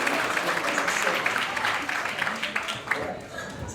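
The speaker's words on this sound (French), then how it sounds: "Vous allez vous applaudir bien fort." An audience at a mentalist's show claps together, giving a dense, steady patter of applause that fades a little toward the end.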